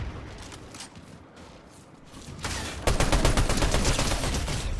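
Rapid bursts of video game gunfire from an AR-style rifle, first scattered and fairly distant, then a loud sustained volley of close, densely repeating shots in the last two seconds.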